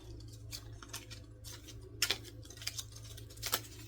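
Quick papery flicks and riffles of playing cards being shuffled, coming in uneven bursts close by with no talking.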